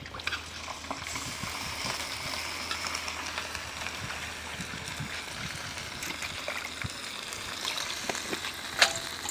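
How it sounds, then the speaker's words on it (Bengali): Spice paste fries and sizzles steadily in a pan after a little water is added, with a soft continuous crackle and a few brief pops and clinks of stirring. "এখন মশলাটা কষানোর জন্য একটু সামান্য পানি একটু দিয়ে নিই"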